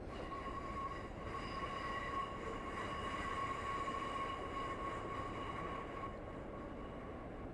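A Class 143 Pacer diesel train runs along the Riviera Line toward Paignton in Train Simulator 2020. Its steady engine rumble and rail noise carry a constant high whine, continuous and fairly loud throughout, with no talking.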